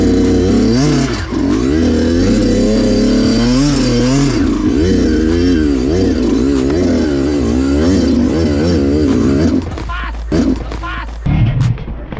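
A new motorcycle revs hard and continuously on a road ride, loud and close, its pitch rising and falling through throttle blips for about ten seconds before easing off, with voices briefly audible near the end.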